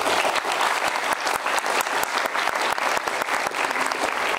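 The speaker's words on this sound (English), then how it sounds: "please could we give them a round of applause" A live audience at a talk in Malaysia applauds in a steady, dense wash of clapping that holds loud and even from start to finish.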